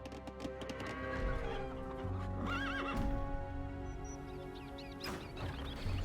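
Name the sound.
horse neighing in the video game Age of Empires II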